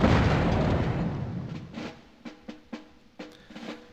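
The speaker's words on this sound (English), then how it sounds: "we will mortar the shit out of this area" Mortar strikes in the Army Men toy-soldier war game: a loud opening blast fades into a series of sharp, distant explosive thumps spaced irregularly, alone without speech.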